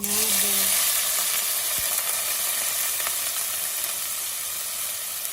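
Dried shrimp frying in a sem curry, giving a steady, loud, close sizzle and hiss that runs the whole time, with a couple of faint stirring scrapes and clinks near the start.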